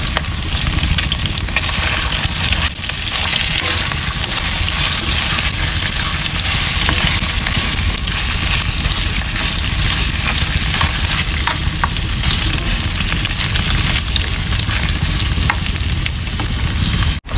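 Garlic, onion and ginger sautéing over high heat in a pan, a loud, dense, continuous sizzle with occasional stirring scrapes running unbroken throughout, no voices.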